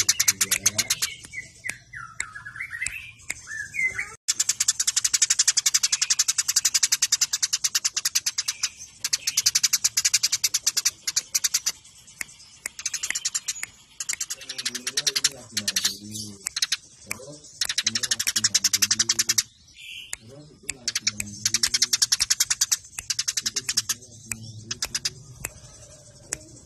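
House sparrows chirp in a dense, continuous, rapid stream of close, bright notes that runs nearly unbroken for almost half a minute, with someone talking in brief stretches underneath.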